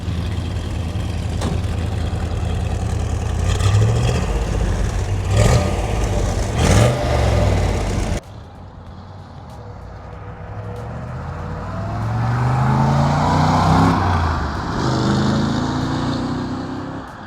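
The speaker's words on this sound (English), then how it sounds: "Sounds like an old muscle car should." A 1963 Corvette Fuelie convertible with a 365-horsepower fuel-injected V8 and side pipes exiting through the fenders, loud throaty revving up close, then a cut to the car pulling away under acceleration with rising and falling engine sweeps.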